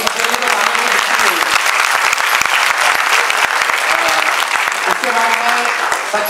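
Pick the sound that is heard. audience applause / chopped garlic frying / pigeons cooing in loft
audience applause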